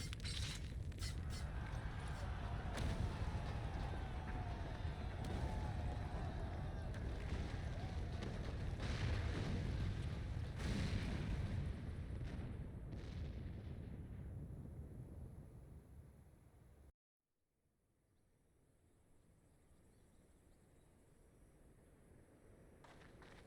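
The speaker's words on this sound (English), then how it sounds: "The main tower just collapsed." The main tower collapses in Final Fantasy XIV amid explosions: a long, dense roaring rumble with crashing bursts, then a sudden cut to near silence and a faint rising ambient hum.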